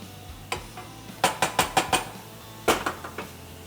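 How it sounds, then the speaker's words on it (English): A spoon scraping and clinking against a pot while stirring penne noodles, a quick run of five or six sharp knocks followed by a second short burst, close and clear with no talking. "give our penne noodles a quick stir"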